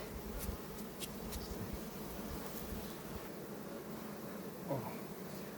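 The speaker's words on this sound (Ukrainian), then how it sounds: "Це місцева наша бджола." A steady, low drone of buzzing local honeybees hums throughout, continuous and close, with a few brief sharper noises near the start.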